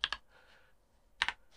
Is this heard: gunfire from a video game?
no